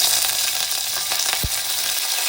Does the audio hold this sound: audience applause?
no